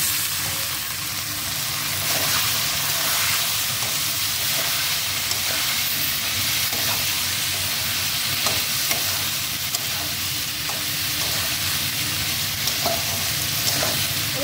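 Okra is added to fried potatoes in a pan and stirred, giving a steady hissing sizzle with scraping spatula strokes and occasional clinks, close and moderately loud, with no talking.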